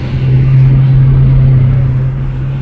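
A Nissan and an Isuzu accelerate off the line in a drag race, heard as a loud, close engine rumble with a steady low drone that eases off at the end.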